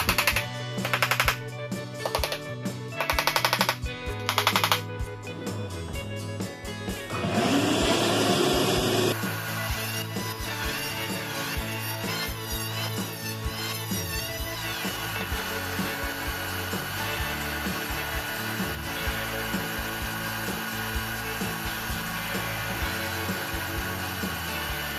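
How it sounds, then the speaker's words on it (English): A power tool planing down a plywood subfloor during hardwood flooring work on a house addition, first in short loud bursts, then one long steady whining, buzzing run with a harsh cutting edge, close and alone. "I'm gonna have to do some kind of a planing here to take this plywood down a little"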